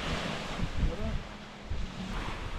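Calm sea waves wash steadily along a beachfront resort with swings and tables, a broad soft surf wash mixed with wind buffeting the microphone, continuous and fairly close.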